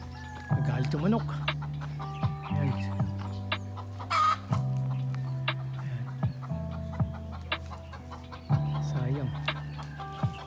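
A chicken clucks repeatedly in agitated bursts, close by, with a few louder squawks and people talking in the background.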